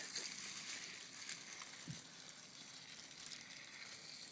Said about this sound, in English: And there comes that hot water coming out.